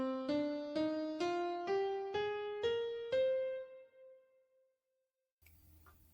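Piano plays a seven-note natural minor scale upward, evenly spaced notes with the last one ringing out and fading, followed by a brief faint noise.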